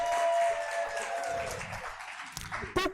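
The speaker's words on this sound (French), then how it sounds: "Applaudissez pour le monsieur." Brief applause from a seated audience at a talk on marriage, a short burst of clapping that thins out quickly, with some voice and room noise around it.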